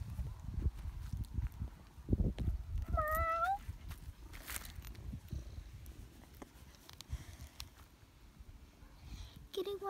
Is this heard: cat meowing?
yes